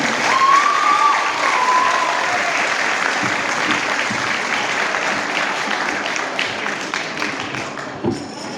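A crowd claps steadily at a youth Bible memorization contest award ceremony, a dense, even wash of applause that thins slightly toward the end with a few louder individual claps.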